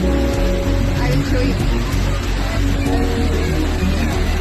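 Steady, dense rain hisses loudly throughout near a pickup point in Gujarat, a continuous wash of falling water with a voice talking over it.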